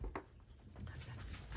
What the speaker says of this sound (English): Oh, now they're all barking.